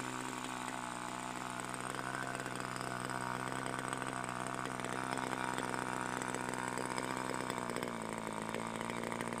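An Evolution 46 glow engine on a model airplane idles steadily with a buzzy, constant drone, its speed dropping slightly near the end as the idle is lowered.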